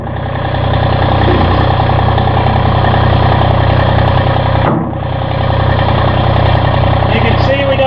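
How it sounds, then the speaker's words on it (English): Massey Ferguson GC series sub-compact tractor engine running at a steady close-up idle, with a brief dip in the middle before the engine settles back into an even drone. A voice talks over it. "The next step is for us to fire the tractor up"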